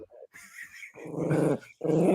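A dog growls low and rumbling in bursts, close and loud, with short pauses between them and no talking.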